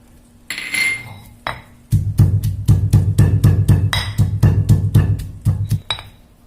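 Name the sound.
pounding galangal chili paste with dried shrimp in a mortar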